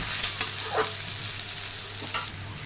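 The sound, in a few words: stirring and frying ginger garlic paste for mutton curry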